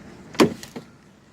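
The door of a BMW E46 325i opened close by, a sharp latch pop followed by a lighter click and a soft creak, brief and isolated in a quiet outdoor setting.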